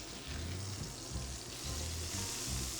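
A hamburger patty fries in a pan, a steady close hiss and crackle of sizzling fat with a faint low bubbling underneath, continuous and without talk.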